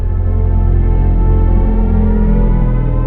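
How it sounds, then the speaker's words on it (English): A synthesized drive sound from the all-electric BMW i5 in expressive mode: a steady, loud, dense low hum with layered tonal harmonics, sustained without break and without talk. "And that is expressive mode."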